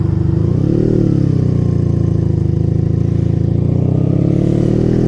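A 1987 Honda Super Magna motorcycle engine idles steadily and loudly up close, a low, even throb with a slight swell near the start and no voices.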